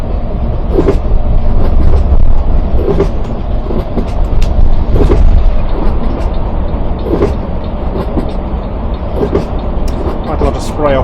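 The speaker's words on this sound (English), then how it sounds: "Quite a lot of spray off these lorries" Lorries throwing up spray on a wet motorway, with a steady loud roar of heavy traffic and tyre hiss on the drenched road, from inside a moving bus, with talk over it.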